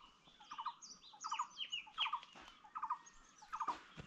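Birds calling near a house on a hillside route, with short, faint, high chirps and squeaky notes repeating in quick bursts.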